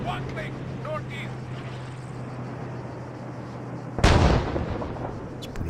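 A single heavy mortar blast booms close by in the Arma 3 Antistasi mod on Altis, a sudden loud burst after a stretch of low steady engine hum and ambient rumble.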